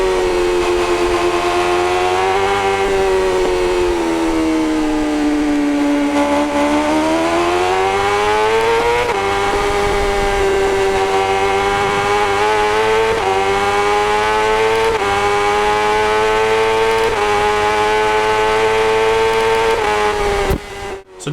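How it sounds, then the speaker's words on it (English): BMW M1000 RR superbike in RiMS Racing, its engine holding a loud, steady high-rev howl that rises and falls through gear changes for about twenty seconds, with no talk over it. "I'll shut up for a moment so you can actually hear the sound of this beautiful motorcycle"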